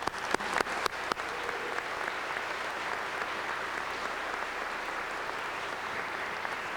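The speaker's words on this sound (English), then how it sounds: "Let's give our students another round of applause." Steady, dense applause from a graduation ceremony crowd honoring the class of 2002 students, a few sharp claps at first then a continuous even roar of clapping throughout.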